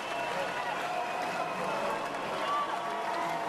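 Roaring crowd of about 1,500 people at a heavy metal concert, a loud, steady wash of shouting and cheering that fills the space without a break.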